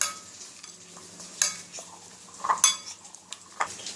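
A spoon stirs paneer in a pan with a little water for a coating, giving scattered scrapes and a few sharp metallic clinks against the pan, close and fairly quiet with gaps between.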